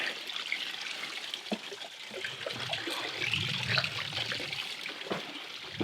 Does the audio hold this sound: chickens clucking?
no